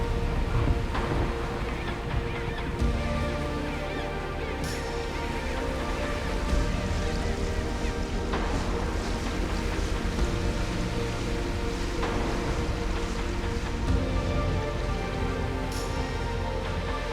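Zodiac inflatable boat motoring across water in Antarctica, a continuous outboard engine drone mixed with hissing spray and splashing, with occasional bumps from the hull on the waves.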